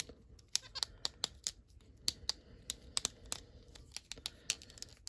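Joints of an S.H.Figuarts Son Goku action figure being posed, a quiet run of sharp, tight clicks and ratchety snaps at an irregular pace, close up with no speech.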